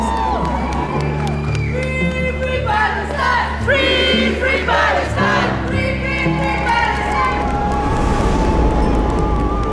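A large crowd at an airport cheers and shouts continuously, excited voices rising and overlapping in a loud, sustained roar of welcome for returning people.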